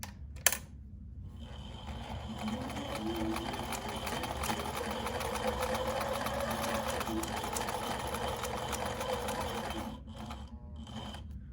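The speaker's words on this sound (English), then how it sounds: "I forgot to reverse on that first stitch, so I'm going to go over it a couple more times." A sewing machine stitches a fabric face mask, running steadily for several seconds at close range with a humming, rapid needle clatter, starting and stopping briefly at the ends.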